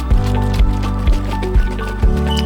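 A banana blueberry smoothie is poured and then shaken in a container, giving repeated sloshing, squishy liquid thumps at a regular rhythm, loud and close with no talk.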